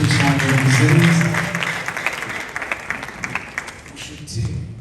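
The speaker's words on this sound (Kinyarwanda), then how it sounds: "abaririmbyi bakomera amashyi menshi cyane neza" An audience at a worship service applauds the singers with dense, sustained clapping, rising under a speaking voice at the start and then carrying on alone in a bright, rapid patter.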